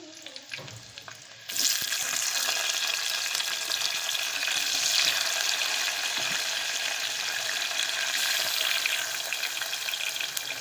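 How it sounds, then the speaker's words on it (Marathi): Oil sizzles and spatters in a pot as it heats for tempering masala brinjal, a Maharashtrian eggplant dish; a quieter lead-in gives way to loud, steady frying after about a second and a half, continuing close and alone. "फोडणीसाठी तेल पातेल्यामध्ये टाकलेलं आहे."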